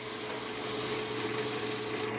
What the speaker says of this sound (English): And now I'm sanding.